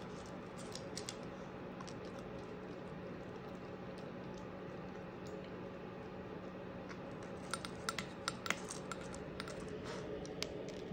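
Quiet, close crunching as a dog chews kibble and a cookie, with soft scattered crackles that grow denser and sharper toward the end.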